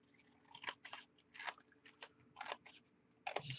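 Scissors cut through chipboard for a stationery card gift box, giving a series of crisp, crunchy snips in irregular bursts, close and quiet.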